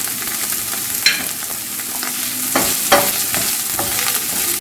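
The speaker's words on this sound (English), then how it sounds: "the oil heats up, so add in the onions, and I'm also adding some ginger and garlic paste" Onions sizzle and crackle in hot oil with ginger garlic paste, a steady frying hiss broken by a few sharp stirring clatters, close and fairly loud with no voices.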